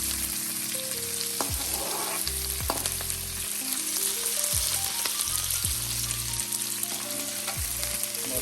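Cumin seeds and three medium onions, sliced long, fry in a pan on medium gas for an aloo gobi sabzi, giving a steady loud sizzle throughout with several scrapes and stirs of a spatula; no one talks.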